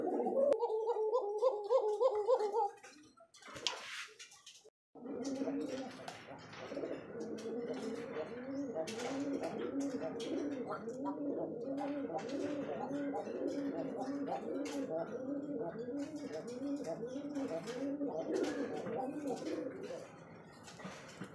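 Rajgolla pigeons at a breeding farm coo in loud, throaty, repeated bursts close by, pausing briefly before resuming in a steady rolling chorus.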